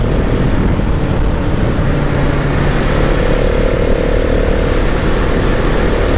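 2021 KTM SMC-R 690 single-cylinder motorcycle downshifting under throttle with clutch and rev matching, a loud continuous engine roar mixed with heavy wind rush and faint shifting pitch changes throughout.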